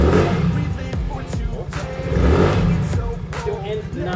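Easyride 150 FI scooter with its GY6 engine bored up to 175cc, revving with a steady, loud low-pitched throb that rises and falls over a few seconds, close by and without talk.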